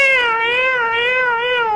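A voice imitates a cat's yowl, one loud sustained wavering meow-like wail with rising and falling pitch held close and alone.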